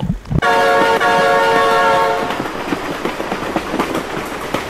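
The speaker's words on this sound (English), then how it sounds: "Oh my god, train!" A BeamNG Drive video game train sounds a loud, sustained multi-tone horn for about two seconds, then its wheels clatter in rhythmic clicks as it rolls close by, with no voices.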